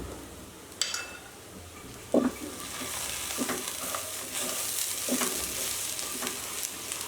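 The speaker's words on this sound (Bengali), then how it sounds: "কিছুক্ষণ চালটাকে আমি ভেজে নেব।" Rice fries in oil in a pan for pulao, with a constant gentle sizzle punctuated by a few sharp spoon knocks and stirring scrapes, near and fairly quiet, without speech.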